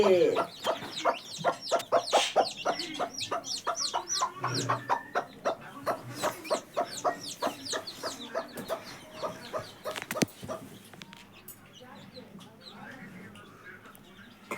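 Hens cluck in quick repeated bursts near and clear, with newly hatched chicks peeping among them and a brief rooster-like call, steady farmyard chatter throughout with quieter fowl sounds trailing off at the end.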